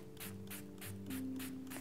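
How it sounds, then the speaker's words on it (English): A handheld spray bottle gives a light mist over an acrylic abstract painting on canvas, a series of about six soft, evenly spaced hissing puffs, close by and faint, over a low steady hum. "I have a handy little spray bottle."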